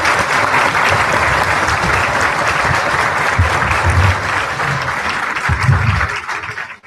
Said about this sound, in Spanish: Les pido por favor un fuerte aplauso al doctor maestro.